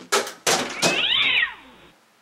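A cat lets out a long, drawn, wavering meow after a few sharp thumps, the cry rising and falling close to the listener before fading into quiet.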